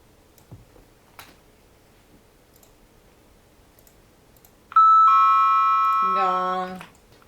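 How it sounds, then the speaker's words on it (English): A bright chime sound effect rings out on a radio show, a sustained tonal ding followed by a second layered bell tone that fades after about two seconds, preceded by faint clicks. "Gong."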